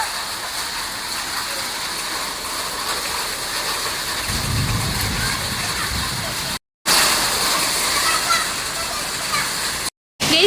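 Steady heavy rain with hail hissing on surfaces in Bangalore, continuous and fairly loud, with a short stretch of deeper rumbling splashing in the middle and brief cut-outs.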